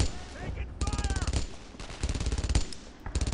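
Rapid bursts of automatic gunfire crackle in a World War II battle in Brothers in Arms: Earned in Blood, long stuttering volleys broken by short pauses, with faint voices underneath.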